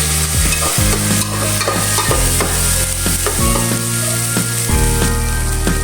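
Tomatoes being stirred and sautéed in a pan for tofu soup, loud close sizzling broken by rhythmic scraping stir strokes and utensil clanks roughly every second.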